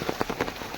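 Heavy rain pours over a village as a dense, steady hiss with a few stronger splashing bursts, close and fairly loud and heard alone.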